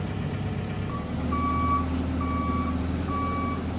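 A forklift unloading a shop's equipment sounds a series of loud, evenly spaced reversing beeps over a low engine rumble and idle.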